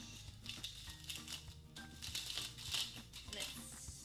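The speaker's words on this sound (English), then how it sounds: "I'm gonna unwrap my brush." A paintbrush is unwrapped from its crinkly wrapping, giving soft crumpling and rustling close by while a person talks over it.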